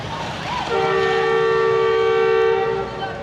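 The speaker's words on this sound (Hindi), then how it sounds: "विसल हो गया, अब चलेगी ट्रेन।" A long, steady train whistle blows before a passenger train departs on the Faisalabad to Lahore route, rising briefly then holding one loud sustained tone for about two seconds over the rumble of the stationary train.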